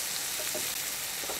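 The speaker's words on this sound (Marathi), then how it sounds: "छान परतून घेतलं आहे आपण." Ingredients for South Indian sambar sautéing in a pan, a steady close sizzle and frying hiss running without pause through the short stretch.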